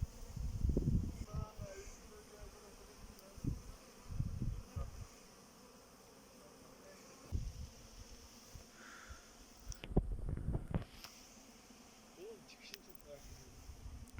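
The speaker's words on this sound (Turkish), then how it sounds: "Şu anda arılar tekrar kovana giriyor." A honeybee swarm buzzes steadily at a hive in the background while people talk close by in intermittent bursts.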